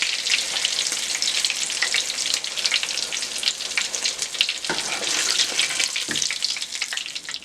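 Sauce fries in a little oil left in the pan after frying fish, a steady, close, crackling hiss with scattered pops throughout.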